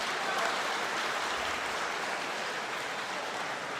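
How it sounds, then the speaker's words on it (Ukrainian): Spectators applaud during a boxing match, a broad steady wash of clapping heard at a moderate distance and fairly quiet, continuous from start to finish. "Оплески."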